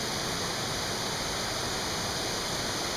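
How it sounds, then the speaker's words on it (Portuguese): Steady, dense rush of the Cascata das Andorinhas waterfall, a broad continuous roar close by with no breaks and no voices over it. "o Mauro lá na beira da cascata das Andorinhas, entrando na água, fica gelada pra caramba"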